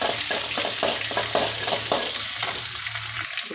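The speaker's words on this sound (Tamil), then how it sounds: "இப்போ சின்ன வெங்காயமும் பூண்டு போட்டு நல்லா வதக்கி விட்டுக்கோங்க" Shallots and garlic sauté in hot oil with curry leaves in a loud, close, continuous sizzle, broken by quick, rhythmic scrapes of a spoon stirring the pan.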